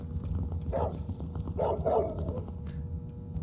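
A dog barks a few times in quick bursts in the HeadHorse Legacy video game, mid-distance, over a steady low hum of background noise.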